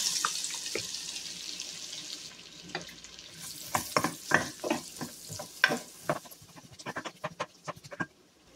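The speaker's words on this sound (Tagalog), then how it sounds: "Gisa natin yung onion." Onion sautéing in butter in a pan, a soft steady sizzle under irregular scraping and stirring clatter from a utensil against the pan, close and fairly quiet, with no talk.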